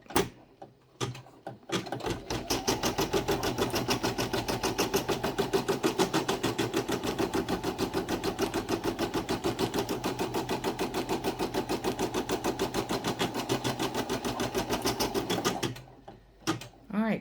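An embroidery sewing machine stitches an outer bean stitch on a fabric heart ornament, a rapid, even mechanical rattle running for roughly fourteen seconds, framed by a few clicks and brief speech at the start and end.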